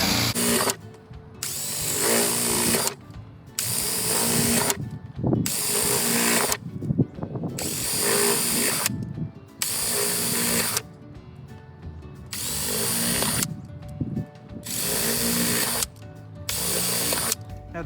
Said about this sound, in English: you're gonna take your drill bit, and on the inside of the circle, you're gonna start by drilling a bunch of holes